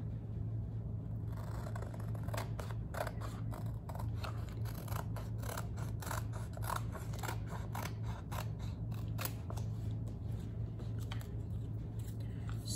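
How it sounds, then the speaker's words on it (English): Scissors snipping apart pieces of craft paper, a run of quick crisp cuts in irregular rhythm over a steady low background hum, close and moderately loud, no speech. "So I'm just gonna cut these apart."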